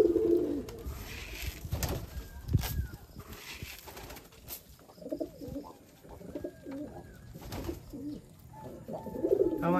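A young adult male racing pigeon coos at a loft, its soft low throaty calls coming in repeated rolling bursts, close and fairly quiet, with chirps from other birds around.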